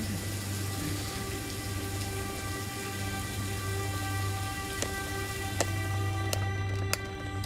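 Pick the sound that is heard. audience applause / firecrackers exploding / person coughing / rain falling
rain falling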